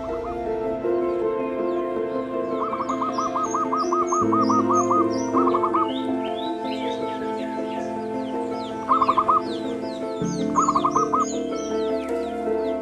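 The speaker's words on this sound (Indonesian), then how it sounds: "Suara kicauan burung terdengar bersahutan." Birds sing and call back and forth in Katok forest near a spring in Bojonegoro, far from settlements, with repeated rapid trills, whistles and chirps layered near and far.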